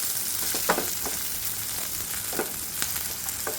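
Banana pieces sauté in ghee with a steady, close sizzle. Soft stirring scrapes are scattered through it, and no voices are heard.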